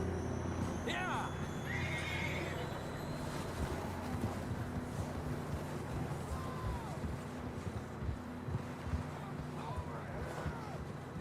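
Horses in the video game Red Dead Redemption 2 whinny a few times over steady clip-clopping hooves, with people talking throughout and a broad, airy background hiss.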